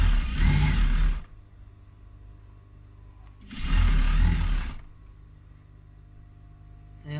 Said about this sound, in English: I'll stitch up to the top and then I'll show you the binding.